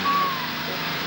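A lorry reversing in an action film scene gives off a single loud electronic warning beep near the start, set over a dense, steady wash of engine and street noise.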